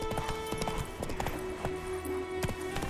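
Steady clip-clop of Roach the horse's hooves in The Witcher 3 next-gen, a close, regular trotting rhythm carrying through the whole moment over a low game background.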